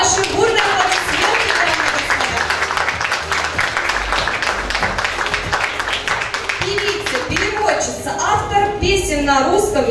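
At a modelling agency's beauty contest, a hall audience claps loudly and steadily in a sustained wave of applause, with a voice speaking over it near the end.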